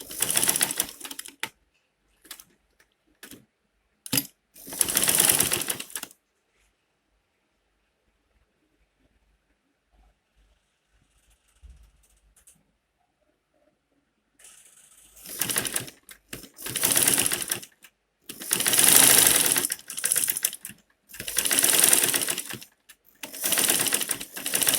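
A sewing machine stitches a face cap in several quick, rapid-fire bursts of close, clattering needle strokes, then goes quiet for a stretch before resuming with longer, louder runs of stitching.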